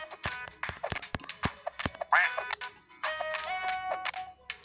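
Ducks quack repeatedly in a duck battle video game, a busy run of short, sharp calls mixed with clicks, beeps and other game effects.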